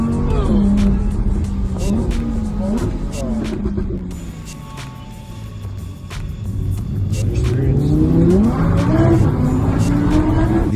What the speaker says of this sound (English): In the video, May is seen driving an Audi R8 and reaching a top speed of 96 kilometers per hour